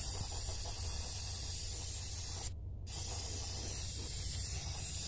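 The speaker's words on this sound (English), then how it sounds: "we're gonna spray some brake cleaner in here" Brake cleaner sprays into the air filter housing of a 2011 Chevy Cruze 1.4, a steady, close aerosol hiss that cuts out briefly midway before resuming.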